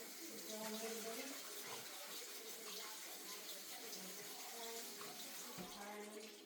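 Canned black beans rinsed in a kitchen sink as tap water runs in a continuous low splashing gush, fairly quiet, with faint voices in the background.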